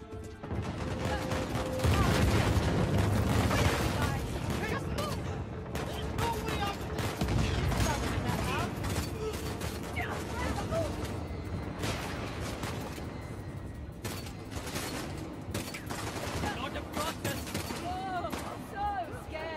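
Gunfire in the video game Uncharted: The Lost Legacy, with repeated sharp shots and bursts over a busy game soundscape. People talk over it throughout.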